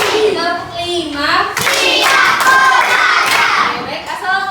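A group claps hands in a rhythmic pattern during a classroom-style clapping game, the claps near and fairly loud, with children's and other voices mixed in throughout.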